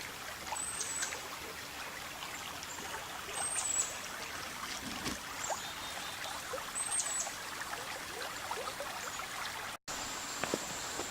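A creek in Tuscarora State Park flows with a steady, fairly quiet wash of water throughout, and a few faint chirps rise above it.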